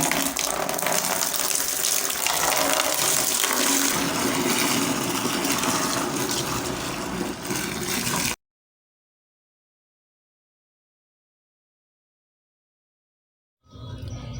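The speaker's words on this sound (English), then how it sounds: "Then I usually mop daily. Mopping the house," Continuous watery rush and splashing from mopping a house floor in a small bedsitter, loud and steady for about eight seconds, then cut to silence before briefly resuming.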